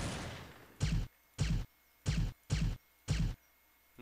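Pistol gunshots in a video game ring out as five sharp, evenly spaced blasts, each loud and punchy with a short decay, close to the listener with no talking over them.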